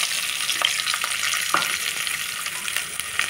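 Mustard seeds, cumin and chopped garlic fry in hot oil in a pan, giving a steady close sizzle with scattered small pops and crackles throughout, no voices.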